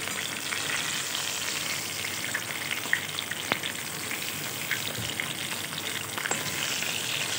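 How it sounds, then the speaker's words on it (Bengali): Snakehead fish fry in a pan with a dense, even sizzle that runs unbroken throughout, close and steady, with a few faint crackles and pops. "এপাশে মাছগুলো আমি খুব ভালোভাবে লাল লাল করে ভেজে নেব।"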